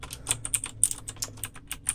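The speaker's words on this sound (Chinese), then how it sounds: "那它的打字的声音是这样子。" Rapid, irregular keystrokes on a Baroque angel typewriter-style keyboard, each press a crisp, close click with occasional louder strikes, heard alone with no voices.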